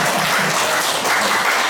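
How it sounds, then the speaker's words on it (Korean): Lecture-hall audience applauding a professor, a loud, continuous burst of many people clapping together. "우리 지금 교수님께 박수 한번 드리겠습니다."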